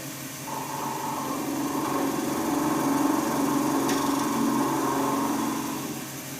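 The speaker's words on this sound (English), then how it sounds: "you're getting that clunking noise again because the blank's slightly out of round" Wood lathe spinning a slightly out-of-round resin handle blank under a carbide tool, a steady mid-pitched whirring hum with a faint rhythmic knock running through it, close and continuous.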